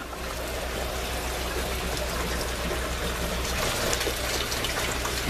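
Water trickles and splashes steadily through aquaponics grow towers, a continuous close, hissing patter of falling water over a low hum, with no speech.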